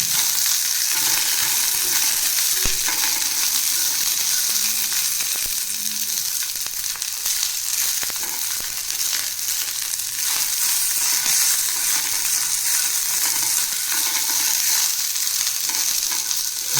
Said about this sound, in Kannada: ಲೈಟಾಗಿ ಫ್ರೈ ಮಾಡ್ಕೊಂಡ್ರೆ ಸಾಕು.